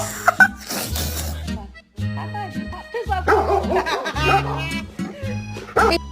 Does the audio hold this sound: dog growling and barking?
yes